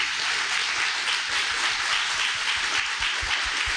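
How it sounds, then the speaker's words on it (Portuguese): A church congregation applauding loudly during a sermon, a thick wash of continuous clapping with a few low thumps near the end. "Aplauda bem forte ao Senhor."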